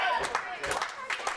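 Rhythmic clapping from a wrestling crowd cheering on a wrestler caught in a chin lock, several quick bursts of hands in a loose beat at moderate distance.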